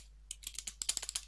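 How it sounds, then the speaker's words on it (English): Typing on a computer keyboard while entering a command in Kali Linux, a quick run of a dozen or so close, crisp key clicks in an uneven rhythm, alone and fairly quiet. "So I'm just going to go ahead and type in home"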